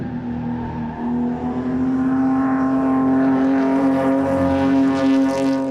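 HQ Holden race cars at Morgan Park Raceway in Queensland during a 20-lap final, a loud sustained engine drone with a steady pitch, rising in intensity as the cars pass nearby.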